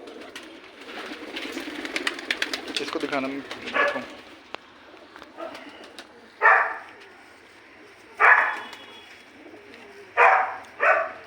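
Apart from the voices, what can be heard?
pigeon cooing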